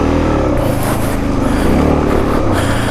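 A Suzuki DRZ400 dirt bike engine lugs low and steady in second gear while riding on snow, a dense continuous rumble that stays loud and close for the whole stretch, with no speech over it.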